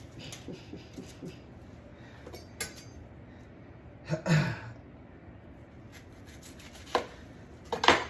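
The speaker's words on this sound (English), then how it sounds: "there is a trick to cutting an onion" A kitchen knife chops an onion on a cutting board, a run of quick soft cuts followed by a few sharper, isolated knocks and clatters, close by in a quiet kitchen.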